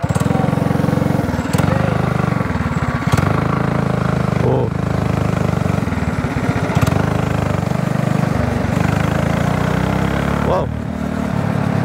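A 200cc gas go-kart engine runs steadily on a race track, a loud, close, buzzing drone with rising and falling revs throughout, while a voice briefly exclaims over it.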